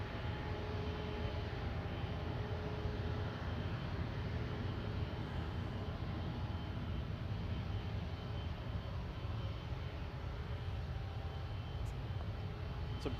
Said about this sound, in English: just had a Air Canada 777 go over a high altitude but really loud